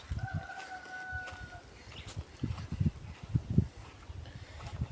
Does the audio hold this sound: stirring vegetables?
no